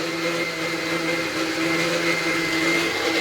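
A mixer grinder blends mint and coriander chutney, a steady, loud motor whine with sustained tonal harmonics running evenly throughout, no voices.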